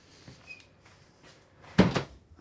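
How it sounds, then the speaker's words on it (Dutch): A door at the directorate gate of the Cadzand Maritiem project swinging open, a soft thud and rattle near the end following faint earlier creaks, with no talking. "de deur zwaait wagenwijd open"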